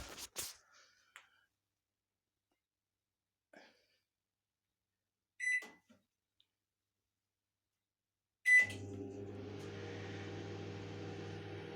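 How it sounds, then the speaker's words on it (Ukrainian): A few soft clicks and two short electronic beeps, then a microwave oven powered from an inverter starts up with a steady, close electrical hum that continues to the end. "Мікрохвильовка засвітилася. Зараз ми спробуємо натиснути кнопочку на старт."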